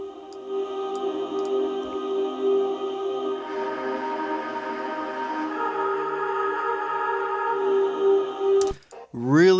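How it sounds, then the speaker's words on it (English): A granular synthesizer loop made in Quanta, a dreamy, sustained layered drone with shimmering tones that thickens partway through, ending in a quick sweeping warble. "this loop, which I made myself in Quanta, which is a granular synthesizer"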